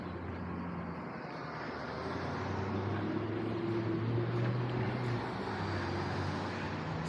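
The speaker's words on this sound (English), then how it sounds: "See how the sound is as I'm walking with the cars driving by." Cars pass along a street, heard as a low continuous rumble of traffic that swells gently midway, picked up while walking nearby.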